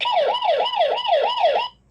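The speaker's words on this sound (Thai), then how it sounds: "เสียงไซเรนก็ดังอยู่นะครับ" Siren alarm from a Vstarcam CS64Q security camera, a loud electronic wail sweeping up and down in quick, regular cycles, close and alone before cutting off abruptly.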